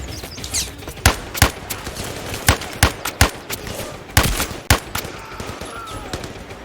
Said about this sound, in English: they're currently shooting at the teammates